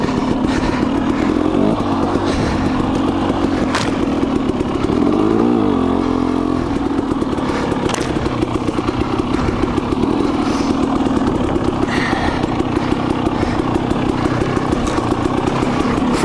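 A KTM 300 XC-W two-stroke dirt bike engine runs during break-in riding: a loud, continuous close-up buzz with rising revs and a few throttle blips over rough-ground clatter.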